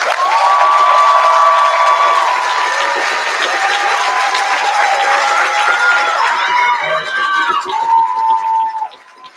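At the 2025 Texas Great Debate awards ceremony, an audience breaks into loud applause with cheers and whoops. The clapping is close and steady, with voices rising over it before it tapers off sharply near the end.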